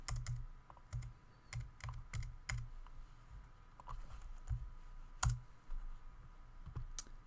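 Typing on a computer keyboard while erasing code, a quiet series of irregular key clicks in short clusters with pauses, close and alone.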